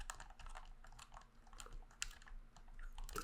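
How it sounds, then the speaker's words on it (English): Buttons on a game controller are pressed in rapid, crisp clicks, close and quiet, with an irregular rhythm and no voice. "I found the sound of the buttons slightly more clicky and less mushy than"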